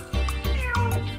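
An African grey parrot mimics a domestic cat, giving three close, loud meows in quick succession with a convincing feline tone.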